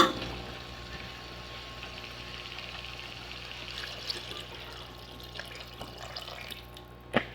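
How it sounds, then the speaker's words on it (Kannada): Measured water poured from a vessel into rice for vegetable pulao in a home kitchen, a steady close pour that runs throughout, ending with a small clatter. "ಇವಾಗ ಇದಕ್ಕೆ ನಾನು ನೀರು ಹಾಕ್ಕೊಳ್ತೀನಿ. ನಾನು ನೀರು ಆಲ್ರೆಡಿ ಅಳತೆ ಮಾಡಿ ಇಟ್ಕೊಂಡಿದ್ದೀನಿ, ಆ ನೀರನ್ನ ಹಾಕ್ಕೊಳ್ತೀನಿ."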